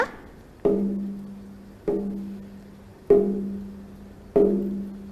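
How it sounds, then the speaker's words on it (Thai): A drum is hit with a wooden stick four times at an even, unhurried pace, each strike a sharp thump with a ringing tone that fades before the next, heard alone. "คุณครูแพรนะคะนำกลองมานะคะ มีตัวกลองของเราและก็ไม้ตีนั่นเองค่ะ"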